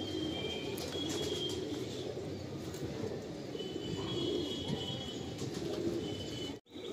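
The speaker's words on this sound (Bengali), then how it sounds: "খুব সুন্দর কিছু পায়রা, দারুণ একটা কোয়ালিটির পায়রা।" Giribaj pigeons in a Kolkata loft fill the space with a dense bed of low cooing, thick and continuous over background rustle and faint chirps, cut by a brief dropout near the end.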